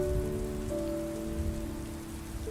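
Rain falls steadily on a surface as a close, even patter, with a soft sustained tonal hum underneath and no speech.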